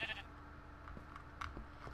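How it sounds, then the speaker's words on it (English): Sheep bleating inside the Minecraft video game, a few short electronic bleats over quiet in-game ambience, moderately faint, with no talking. "And now we have sheep."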